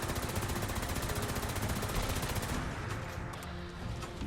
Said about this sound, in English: Gatling laser, shoot where I'm pointing.